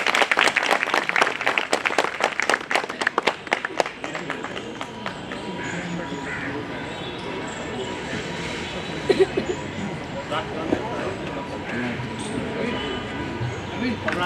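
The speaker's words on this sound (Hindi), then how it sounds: "भाई सेक्रेटरी के लिए जोरदार ताली भाई।" Applause for the secretary at a Bar Council of Delhi enrolment meeting, a burst of individual claps early that thins into scattered clapping and room murmur, with a voice speaking over it.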